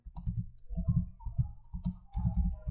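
Close, fast clicking of computer keyboard keys as text is typed, uneven taps clustered in short bursts over a couple of seconds.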